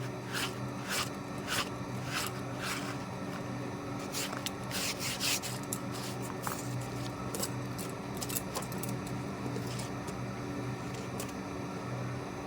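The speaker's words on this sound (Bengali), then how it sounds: "ভালো করে ঘষে নিচ্ছি।" Hand scrubbing of a doormat during home cleaning, a steady rasping, rubbing sound with repeated sharper strokes, close and continuous with no talk.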